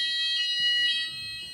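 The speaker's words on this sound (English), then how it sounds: "you'll notice that the sounder silence came on, and then the sounder stopped" A fire alarm sounder in a hybrid fire alarm system at a charity building rings with a piercing steady electronic tone, then fades as it is silenced, leaving quiet low background noise.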